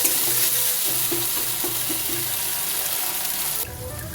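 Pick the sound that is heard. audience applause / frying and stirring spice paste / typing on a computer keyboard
frying and stirring spice paste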